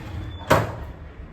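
A door at a lodging in Kingston, Jamaica is opened with one short, sharp clack near the microphone, set against a low background hum.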